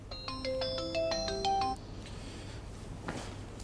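A mobile phone plays a melodic ringtone for an incoming call, a bright run of electronic notes lasting under two seconds, close and clear, then stopping abruptly, followed by quiet room noise and a faint thump.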